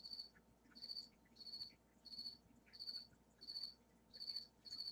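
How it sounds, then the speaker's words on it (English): A single cricket chirps indoors in a steady rhythm, seven even pulses of shrill trilling across a few seconds, close and clear above a faint background hiss, with no talking. "there's that cricket."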